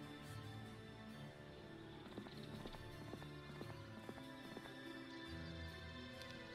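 Horses in a castle strategy video game make faint, steady clip-clop hoofbeats with a few whinnies, set among quiet game ambience with no talking.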